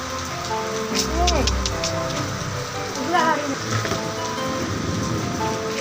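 Steady heavy rain in a storm patters on surfaces throughout, with voices and occasional calls rising briefly above the constant downpour.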